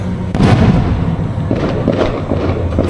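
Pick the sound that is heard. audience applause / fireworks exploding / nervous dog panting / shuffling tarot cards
fireworks exploding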